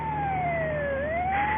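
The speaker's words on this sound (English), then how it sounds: "that's the 4th ambulance in the last half hour" A wailing siren sweeps down then rises again, steady and fairly loud, like an emergency vehicle passing nearby with traffic rumble beneath.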